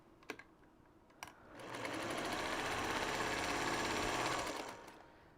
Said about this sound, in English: I need to sew these together this way.